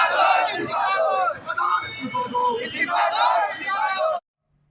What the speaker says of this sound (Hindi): जोर जोर से नारे लगा रहे थे वो